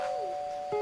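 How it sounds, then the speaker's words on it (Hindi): A doorbell chimes once in a quiet room, a sustained electronic ding-dong tone with a second note starting near the end, with rain dripping at a window in the background. "तभी अचानक डोरबेल बजी।"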